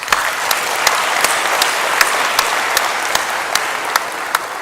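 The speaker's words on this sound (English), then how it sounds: "can we give a warm round of applause to our" Conference audience at an investment gathering gives a steady round of applause, dense crowd clapping with a few sharper individual claps standing out, sustained evenly throughout with no speech.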